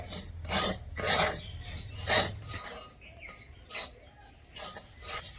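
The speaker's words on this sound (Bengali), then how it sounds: "এবারে একদম হালকা আঁচে রেখে সুজিটাও খুব সুন্দরভাবে ভেজে নেব।" Semolina is roasted in a pan over low heat while being stirred, producing repeated dry raspy scrapes in short bursts, close and clear, with no talking.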